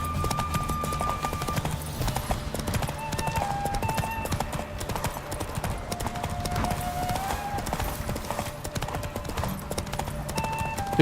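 Horse hooves in a race in the video game The Witcher 3, a rapid continuous galloping clatter under game music, with occasional speech-like sounds.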